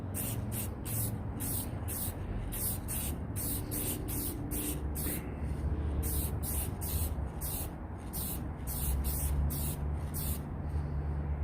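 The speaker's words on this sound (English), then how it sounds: "when you spray a heavy coat, it gets the best gloss, but it takes a long time to dry" Silver spray paint hisses in about sixteen short, evenly spaced bursts onto a 3D printed Anakin Skywalker lightsaber, each puff close and sharp over a steady low background rumble, with no talking.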